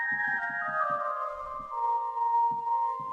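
CS-80-style synth plugin preset playing sustained bright tones with a short plucked sequence underneath, soft and steady, no voices.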